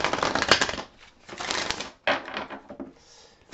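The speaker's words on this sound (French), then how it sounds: "On peut plus mélanger ces cartes." Oracle cards being shuffled by hand, with quick riffling bursts of papery flutter in three or four close, loud clusters separated by short pauses.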